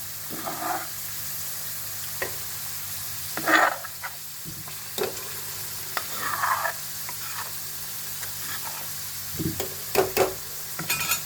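Black chickpeas (kala chana) fry in oil in a pan for a Punjabi chana masala curry. A steady low sizzle runs throughout, broken by intermittent scraping stirs and clatters of the spoon, close and moderately loud, with no talking.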